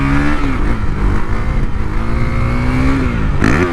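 A KTM Duke 390 fitted with a 56-tooth rear sprocket revs hard and holds against its rev limiter, a loud, close, buzzing engine note that stutters at the cutoff, then drops and climbs again near the end.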